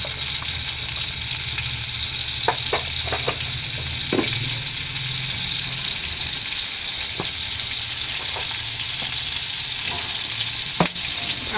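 Whole green chillies and tomato sizzle and fry in oil in a pan, with a steady close crackle throughout and a few sharp spatters and stirring clinks over the hiss.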